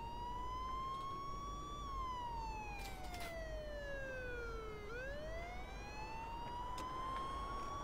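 A police car siren in Mafia 2 wails steadily and loudly, its pitch sliding slowly up, then down, then up again over a constant engine rumble, with no talking.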